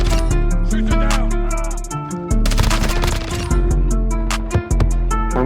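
Rapid automatic gunfire from a Vel 46 in Modern Warfare 2, loud, continuous bursts with brief breaks and crackling impacts, up close in a first-person match.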